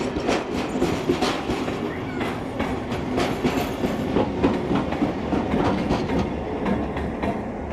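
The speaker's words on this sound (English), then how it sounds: "we see 4916 leading the final shuttle train to Buxton for the day" Locomotive 4916 leads a shuttle train bound for Buxton in New South Wales, with steady wheel clatter and rumbling rail noise rolling past nearby and continuing loud throughout.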